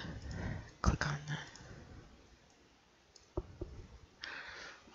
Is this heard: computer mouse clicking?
yes